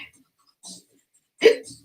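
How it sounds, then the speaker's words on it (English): Hiccups from a person busy crafting a freeform geode resin piece: two sharp, close hiccups, the second louder, with short quiet gaps and no talking. "Got such bad hiccups, it's not even funny."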